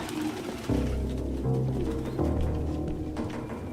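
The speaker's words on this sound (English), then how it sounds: "No human could live with all these fucking pigeons." Pigeons coo in a scene from the video game Detroit: Become Human, low throaty rolling calls repeating in overlapping bursts close by, steady and fairly loud with no voices.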